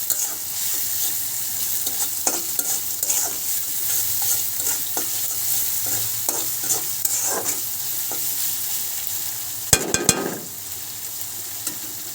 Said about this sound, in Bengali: পেঁয়াজ ভাজা হচ্ছে, পেঁয়াজ শুধু লাল লাল করে ভেজে নেব।